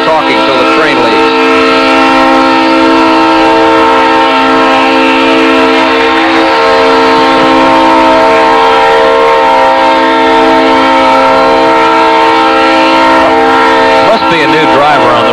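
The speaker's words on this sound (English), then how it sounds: "I'm going to quit talking until the train leaves." A train passes near a college baseball game between Texas and Texas A&M, with a loud sustained horn blast holding steady for over ten seconds over a rumbling undertone, dominating the scene.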